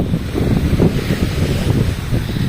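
Steady rush of rough surf at a beach with wind buffeting the microphone, waves washing continuously at close range.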